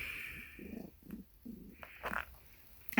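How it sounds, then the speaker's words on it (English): A cat resting on a lap purrs softly and close by in a few short, low, rumbling bursts separated by brief pauses. "I have a kitty on my lap right here"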